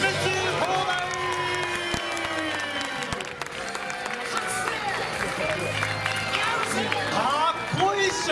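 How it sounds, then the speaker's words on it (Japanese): Crowd applause and cheering greet a Chunichi Dragons baseball player's entrance at a stage event, loud and continuous, mixed with whoops and someone talking over it through a PA. "はい、それでは大きな拍手を迎えください。"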